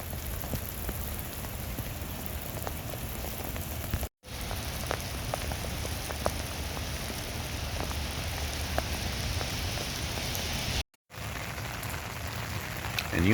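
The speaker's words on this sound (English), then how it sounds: "Here's the rain again." Steady rain falls across the Arizona desert, an even wash of drops with crisp individual taps close by, continuing for several seconds and briefly cut out twice.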